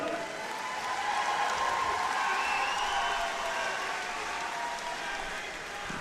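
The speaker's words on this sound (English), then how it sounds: "give a big round of applause" Crowd applause fills a Muay Thai fight venue at Destiny Muay Thai 27, a dense, even wash of clapping lasting several seconds at moderate distance.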